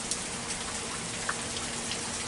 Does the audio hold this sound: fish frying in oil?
no